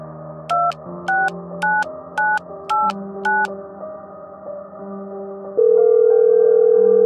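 A phone rings with six quick, evenly spaced electronic beeps over background music, followed by a loud sustained tone.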